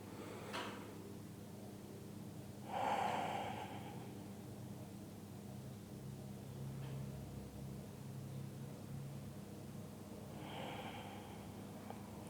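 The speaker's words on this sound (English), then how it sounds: "Take a couple of deep breaths here." Slow deep breaths taken during a yoga warrior pose: two soft, airy inhale-exhale swells several seconds apart, close and quiet over a low room hum, with no talking.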